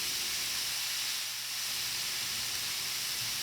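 Bacon frying in a pan as its fat renders, a steady bright sizzle and hiss that holds evenly throughout, close and alone with no talking.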